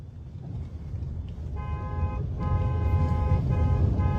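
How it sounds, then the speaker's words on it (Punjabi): A car horn sounds in a few short honks over a steady rumble of engine and road noise, fairly close. "ਹਾਰਨ ਤੇ ਹੱਥ ਰੱਖ ਹਾਰਨ ਤੇ ਹੱਥ ਰੱਖ"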